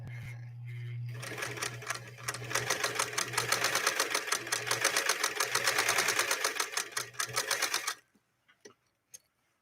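A Singer Spartan sewing machine with a powerful motor stitches through fake leather in a fast, even run of close mechanical clatter after a brief motor hum, then stops, leaving only a few faint clicks.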